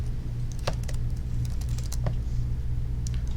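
Irregular clicking keystrokes on a computer keyboard while a command is typed, heard over a steady low room hum.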